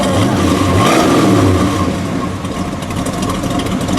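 A black 1969 Ford Fairlane Cobra with a 428 V8 revs loudly up close, the throaty engine rising and holding before settling back to a rumbling idle, with no talk over it.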